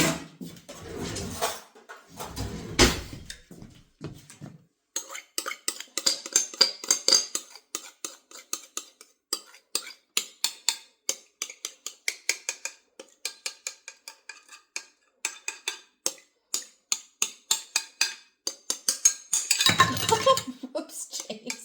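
A fork and a spoon scraping cake mix around a bowl, close rapid metallic clinks and scrapes in uneven bursts, with a few quieter pauses and brief louder clatters near the start and end.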